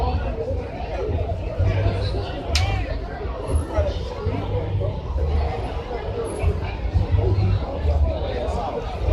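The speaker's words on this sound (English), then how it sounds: "I think they're just holding back the crowd right now." Crowd held back by police at night outside a drinking spot, a steady murmur of many voices with scattered shouts and chatter throughout, fairly close and busy.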